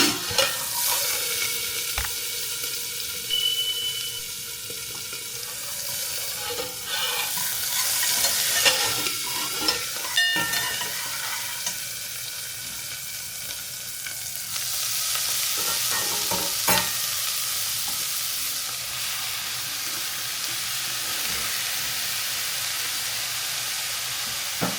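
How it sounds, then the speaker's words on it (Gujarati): Cumin seeds and green chillies frying in hot oil, a continuous close crackling sizzle with intermittent spoon clinks and stirring scrapes, fairly loud and unbroken throughout. "જીરું બહુ પકાવવાની જરૂરત નથી, ખાલી લાલ થાય ત્યાં સુધીમાં નાખી દીધા લીલા મરચાં."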